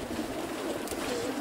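Racing pigeons cooing softly in a loft or crate before release for a Mazury competition flight, a steady low murmur of pigeon calls with faint background noise.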